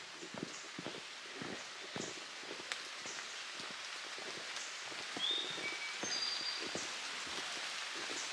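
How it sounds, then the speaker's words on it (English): Steady rain falls on the Appalachian Trail, a soft continuous hiss with scattered drops and faint footstep-like thuds, fairly quiet and without talk. "And it's raining."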